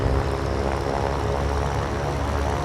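A twin-engine propeller aircraft's left engine running just after start-up, a dense, steady, close propeller drone with a rough, even throb.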